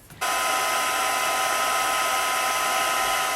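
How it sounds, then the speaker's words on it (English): Heat embossing tool blowing hot air steadily onto embossing powder on a card greeting, a continuous loud whooshing hum that starts abruptly and runs on without a break. "then heat emboss that greeting"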